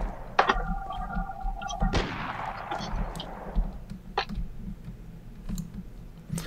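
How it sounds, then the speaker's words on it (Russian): Gunfire in the co-op zombie survival game Aftermath: a few sharp shots and thuds, one followed by a long, booming decay, with scattered clicks over a low hum. "Слышу я твои выстрелы, слышу прекрасно"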